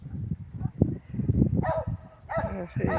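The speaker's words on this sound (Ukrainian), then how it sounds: "І ще й та собочка гавкає а вона кота побачила." Small dog barking at a cat, a few sharp yips and barks at a moderate distance, heard under and between a person's talking.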